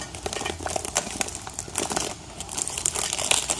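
Vacuum-sealed plastic packaging around a Tanks Inc PA-4 in-tank fuel pump crinkles and crackles in quick, close, irregular bursts, with no talking.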